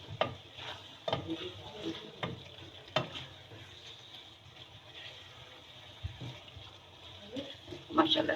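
A potato, pea and carrot curry with green chillies being stirred in a pan, a soft sizzle with occasional spoon clanks and scrapes, fairly quiet and close, and brief talking in places.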